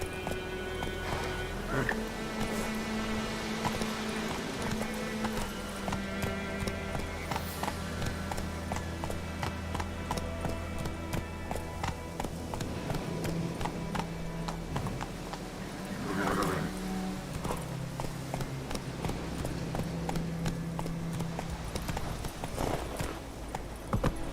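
Roach the horse gallops in The Witcher 3 video game, steady clip-clop hoofbeats running under background music, with a brief snort or whinny midway.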